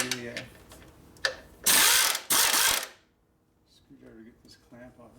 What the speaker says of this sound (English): screwdriver to get this clamp off of here